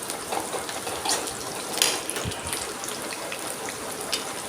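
A sprig of curry leaves hits hot oil with onions and green chillies while cooking an okra curry, giving a steady crackling sizzle with small pops, fairly faint and continuous.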